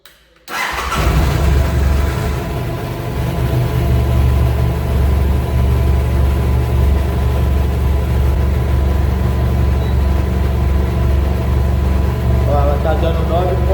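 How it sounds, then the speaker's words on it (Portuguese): A BMW F800GS motorcycle engine cranks and catches after a quiet second, then settles into a steady, loud, close idle that runs unbroken to the end. "Vou ligar a moto."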